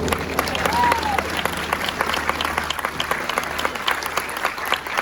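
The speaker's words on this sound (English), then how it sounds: "let's give a round of applause for our beautiful class" Audience applause fills a U.S. Army Ranger School graduation ceremony. Dense, steady clapping from a large crowd runs through the whole stretch at an even, moderately loud level.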